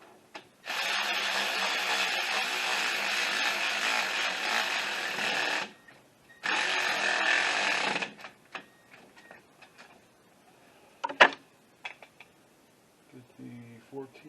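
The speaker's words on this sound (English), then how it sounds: "I'm going to go ahead and run it down with a Milwaukee, get it a little bit snug" A Milwaukee power tool runs down new starter bolts on a 2008 Acura TSX, two loud sustained whirring bursts, one long and one shorter, followed by quieter clicks and clanks of tools nearby.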